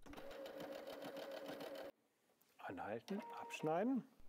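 A W6 N 5000 Exklusive sewing machine stitches a hem in a steady rapid run for about two seconds and then stops. A voice speaks close by afterward.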